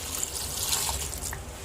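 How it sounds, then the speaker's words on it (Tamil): Water pours into a cooking pot holding garlic, turmeric and oil for a drumstick sambar. A soft, steady trickle runs briefly and quietly. "தண்ணி ஊற்றிக்கலாம்."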